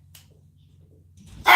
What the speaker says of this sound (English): barking at all the kids